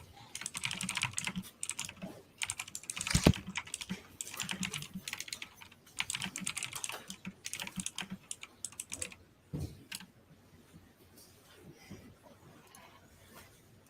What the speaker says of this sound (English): Is my typing that loud?